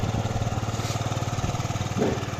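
A Yamaha Jog 36 four-stroke scooter engine runs with a quick, even putter close by, the pulses steady throughout, and a brief rise in engine noise near the end.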